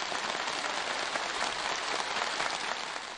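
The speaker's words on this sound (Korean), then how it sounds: "참가자들의 열광적인 박수 속에" Enthusiastic applause from a large crowd of festival participants at a mass cultural arts festival closing ceremony, a dense, steady wash of clapping sustained throughout without talk.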